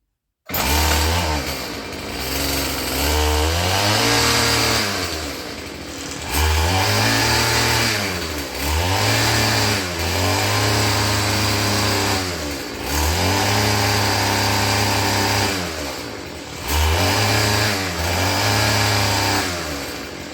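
A Stihl FS36 string trimmer, freshly rebuilt with Ryobi parts, runs rough and loud up close, its small two-stroke engine surging and dipping in repeated uneven bursts with brief sags between.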